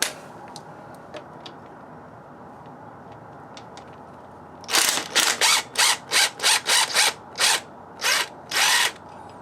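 A power tool works loose the brake pedal on a WR250E motorcycle: after a few faint metallic clicks, about ten short, loud whirring bursts come in quick succession, close by, with no talk.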